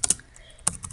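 Computer keyboard keys tapped while entering code for a Unity 3D first-person shooter, a quick pair of clicks then a short burst of several keystrokes, close and crisp with no talking.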